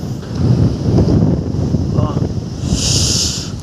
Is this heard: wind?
yes